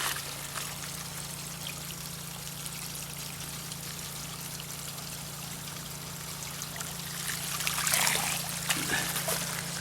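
Water pours steadily into a preformed garden pond, a continuous close trickle and splash with a steady hum beneath it, swelling slightly louder near the end.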